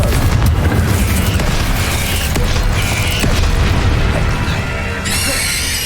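A Confringo spell blast in Hogwarts Legacy lands as a loud booming burst over dense, rumbling game effects and mechanical clatter, with a bright shimmering tail near the end.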